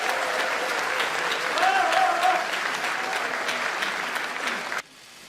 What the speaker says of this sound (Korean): 임명진 비상대책위원장님께 다시 한번 전국위원회 큰 박수 부탁드리겠습니다